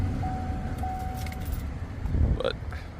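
A truck engine idles with a steady, close, low rumble throughout, and a brief metallic jingle rises over it near the end.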